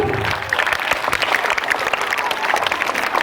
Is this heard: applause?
yes